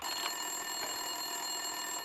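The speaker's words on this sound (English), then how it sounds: "Winterson's phone was ringing." An office desk telephone rings in the video game Max Payne 2, a steady high electronic trill holding throughout, fairly loud and alone with no voices.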